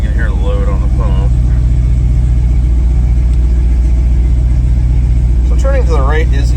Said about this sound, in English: You can hear the load on the pump.